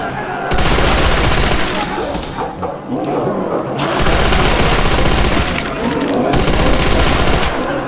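Sustained MG and Browning machine gun fire in World at War Zombies, long loud automatic bursts broken by short pauses, with snarling zombie noises mixed beneath the shooting.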